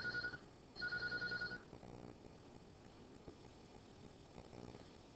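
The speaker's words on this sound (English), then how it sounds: "my phone's ringing mid-video" A telephone ringtone chirps in two short electronic bursts, the second longer, fairly close over a low background hum, then stops.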